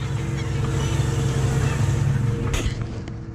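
A heavier tractor's engine drones steadily in the cab while ploughing, a continuous low rumble with wind noise and a brief rattle near the end.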